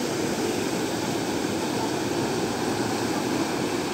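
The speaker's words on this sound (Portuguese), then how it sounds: "Rio das Pedras, cheio, muita água." The flooded Rio das Pedras in the Brazilian sertão after heavy rain, its full, high water rushing in a loud, continuous broadband roar with no pauses and no voices.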